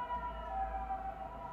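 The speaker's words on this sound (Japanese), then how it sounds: "めっちゃサイレン鳴ってる。" A siren wails steadily outside a studio, its tone holding level and loud enough to fill the room, with no talking over it.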